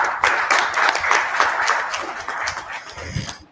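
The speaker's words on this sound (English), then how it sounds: "I request you to have a big applause for Professor Nag." A crowd applauding steadily, dense overlapping claps at moderate volume, fading out near the end.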